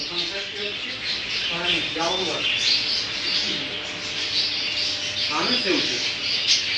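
A pair of budgerigars chirp and squawk in a busy pet shop, their short bright calls rising over constant background noise and murmur.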